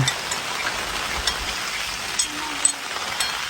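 Predawn rain falls on a family campsite in Bangkong Kahoy Valley, a steady soft patter with a few sharper drips striking nearby surfaces and no one talking.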